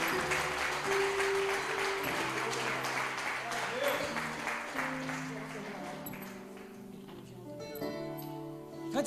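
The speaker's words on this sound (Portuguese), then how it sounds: "Aplauda o Senhor Jesus." A congregation at an evening church service claps together while music plays, and a voice speaks over the clapping, which thins out as the music carries on.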